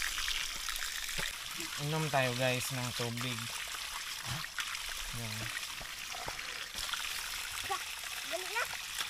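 Strong flowing water pours and trickles steadily in the background while someone talks over it, with broadband rushing noise throughout.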